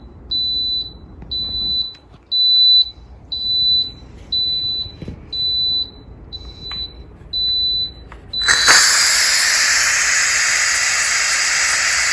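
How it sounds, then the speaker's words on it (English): An electric pressure cooker making spaghetti carbonara beeps about eight times in a regular pattern, then abruptly lets out a loud, continuous rush of hissing steam as the pressure vents. "we have now started to release the pressure that's in here"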